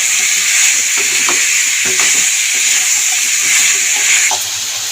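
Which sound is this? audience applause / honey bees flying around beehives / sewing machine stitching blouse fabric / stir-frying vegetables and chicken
stir-frying vegetables and chicken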